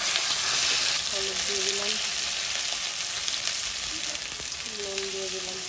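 Chilli, cumin, ginger and garlic paste frying with turmeric in a pan, a steady close sizzle running throughout while a voice speaks briefly over it.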